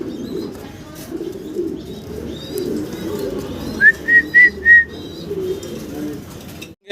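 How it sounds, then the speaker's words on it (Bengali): Fancy pigeons, racers among them, coo in a loft: a soft rolling burble runs throughout, with a short burst of four clear whistled calls near the middle. "এই চমৎকার বারের কবুতরগুলো রেসারগুলো নিতে পারেন"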